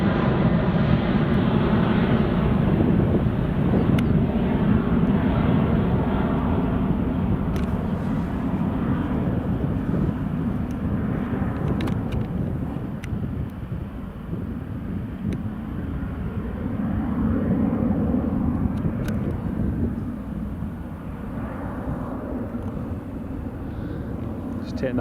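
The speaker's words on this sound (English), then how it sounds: "Jet 2 making that turn to avoid that lovely weather that's coming our way." A Jet2 airliner turning in the air near Newcastle International Airport gives a steady, loud, broad roar that holds for the whole stretch, rising and easing slightly, with muffled talk at times underneath.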